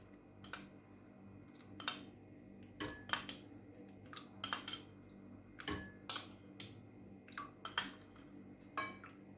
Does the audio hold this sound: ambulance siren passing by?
no